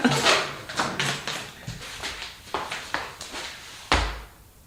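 Front door of a home being opened and closed: a series of knocks and rattles, then a heavier slam near the end, all close and clear with no talk.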